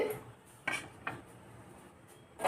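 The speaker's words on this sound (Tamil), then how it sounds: "சத்தம் கேட்குதா நல்லா மொறு மொறுன்னு இருக்கு" A few sharp crunchy snaps of a crispy ragi biscuit being bitten or broken, two distinct cracks over quiet background, close and fairly soft.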